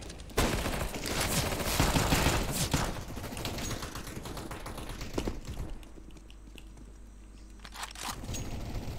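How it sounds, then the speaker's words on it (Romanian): Dense video game gunfire crackles almost continuously as overlapping bursts of shots, loud and busy through most of the stretch, then thins out toward the end with a few scattered reports. "trage cineva aici?"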